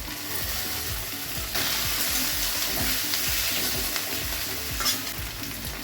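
Chopped green chillies and tomato frying and being stirred in a hot pan, a steady loud sizzle with repeated scraping stir strokes throughout, no talking.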